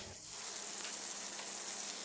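Butter sizzling and frying in a pan, ready for cooking schnitzel, heard as a steady close-up hiss with no speech over it.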